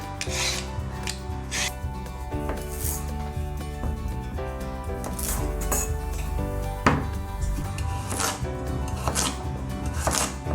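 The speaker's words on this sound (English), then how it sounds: "Next up, I'm gonna peel my carrots. And then I'm gonna roughly chop them." Peeled carrots being roughly chopped with a knife on a board, with rasping scrapes and a run of close knife knocks over steady background music.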